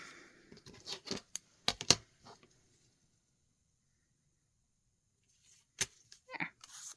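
Scissors trim a handmade cover for a Sterling Ink passport planner: a few quiet, close snips in a short cluster, then near silence, then a couple more crisp cuts near the end.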